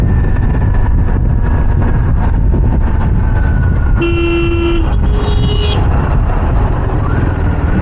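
A vehicle horn honks twice, one long blast then a shorter one, over a constant loud roar of engine and road noise.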